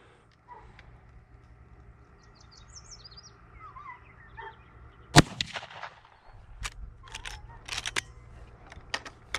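A .44 Magnum carbine fired from a tripod at an outdoor range lets off one sharp, loud report midway, followed by scattered mechanical clicks and rustling, with distant birdsong faintly heard earlier.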